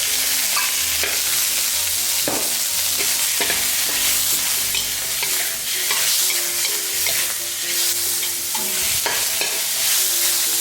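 Shrimp hit hot oil in a home stir-fry with jicama, giving a loud, continuous sizzle and crackle close up while a utensil scrapes and stirs through the pan at intervals, with no talking.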